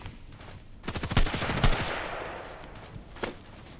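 A fast burst of automatic gunfire from the online shooter Contract Wars rattles loud and close for about a second, then trails into a fading echo, with one more single shot near the end.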